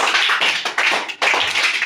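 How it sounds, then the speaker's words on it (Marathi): Kids in a classroom-style concentration game clapping for a player, a near, loud patter of many hands with a couple of brief lulls before resuming, no voices audible. "सुहानीसाठी टाळ्या वाजवा जोरदार"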